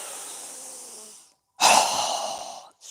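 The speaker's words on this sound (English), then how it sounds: "we'll exhale through our mouth with a strong breath as we lower our arms and hands down" During a yoga session, a long, airy breath in fades out, then after a short pause comes a forceful, loud exhale through the mouth that tails off gradually, close up and without talking.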